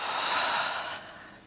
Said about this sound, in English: Stay here, exhale.